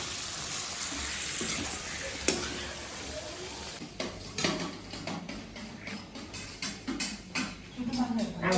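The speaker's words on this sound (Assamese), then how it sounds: "মাছখিনি, মাছৰ মাথাখিনি ফ্ৰাই কৰি লৈছোঁ" Fish heads fry in a pan with a steady, close sizzle and crackle, broken by spoon stirring and pan scrapes that grow more frequent toward the end, with a few light clicks over the frying.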